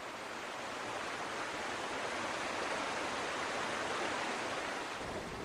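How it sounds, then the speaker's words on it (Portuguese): A torrent of water rushes through narrow mountain gorges in Australia, filling riverbeds after rain, a loud, continuous broadband roar with no pauses and no voices. "A torrente avança através das gargantas estreitas das regiões montanhosas"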